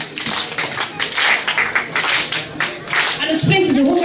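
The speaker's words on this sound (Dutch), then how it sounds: "En na de boem klapt ze 4 keer in die hang." Dancers in a dance revue routine clap their hands sharply in quick bursts against loud, energetic talk and background noise, with a few taps in between.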